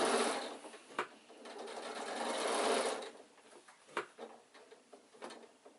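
A sewing machine stitching a seam on an insulated picnic bag, close whirring runs of stitching broken by short pauses and sharp clicks.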